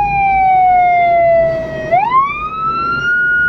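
An emergency vehicle siren wails on a Budapest street, one long tone sliding down, then sweeping back up and holding, loud and close with no talk.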